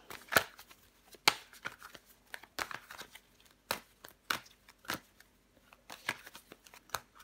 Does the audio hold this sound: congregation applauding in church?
no